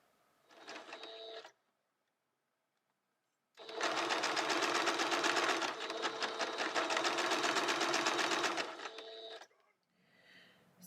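A sewing machine stitches a cape piece for a costume: a short burst, a pause, then a long steady run of rapid mechanical stitching before it stops, close and loud with no talking.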